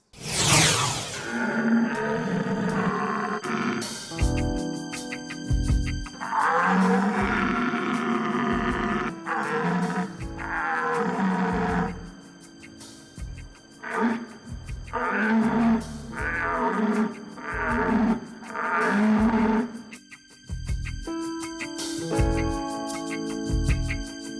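A person imitates the wild rutting call of a deer with repeated long, hoarse, moaning roars, loud and close, separated by short pauses and ending in a few shorter grunting calls.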